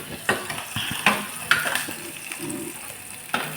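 Onions sautéing in a pan for chickpea kurma: a soft, steady sizzle broken by scraping stirs and sharp clinks of a spoon against the pan, close by and with no talking.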